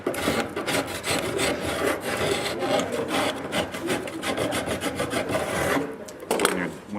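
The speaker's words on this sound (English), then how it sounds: "And you can scrape off the sharp corner." Steady, continuous rasping scrape of a blade shaving the sharp corner off a wooden skate deck to form a bevel, rhythmic strokes close up and fairly loud, with a brief pause near the end.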